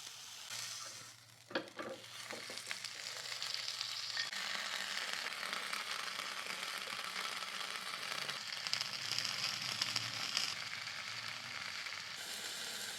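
A whole oiled tandoori chicken roasts over heat, giving a steady sizzle and crackle that runs throughout, with a few sharp pops early on.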